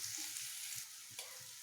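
Dried red chillies sizzle steadily in hot oil in a pan for a dry fish chutney, a close, continuous hiss with faint stirring scrapes and no voices.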